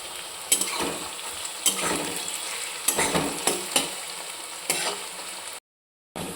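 Onion frying in a pan while being stirred, a close, continuous sizzle broken by regular scraping strokes of the spoon, ending in a brief gap of silence and a short return of sizzle.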